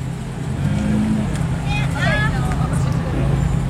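A BMW M2 sports car passes at a supercar meet, its engine a steady broad rumble close by, blended with crowd babble and other traffic noise throughout.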